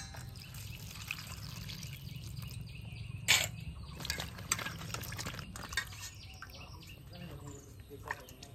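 Cut pointed gourds (potol) being washed, with water splashing and dripping and pieces knocking in a bowl, close and fairly quiet, while birds chirp faintly in the background.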